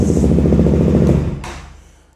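A KTM Duke 200 motorcycle engine idles loud and steady with a throbbing pulse, then cuts off and fades out near the end.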